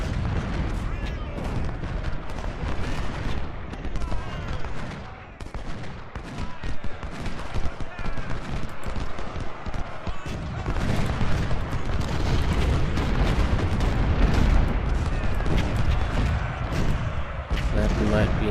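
Cannon salvos in the Civil War strategy game Ultimate General: Civil War at the Battle of Malvern Hill, a dense, unbroken roar of overlapping artillery booms and rattling volleys that rumbles loudly for the whole stretch.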